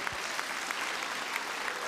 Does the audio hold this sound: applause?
yes